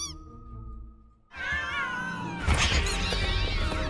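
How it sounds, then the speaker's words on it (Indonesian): Animated cats in the film The Secret Life of Pets 2 fight over a dog's ball. A single drawn-out meow comes first, then a loud, dense chorus of overlapping yowls and meows with scrambling. "dia terkejut melihat kucing-kucing berebutan main bolanya Max"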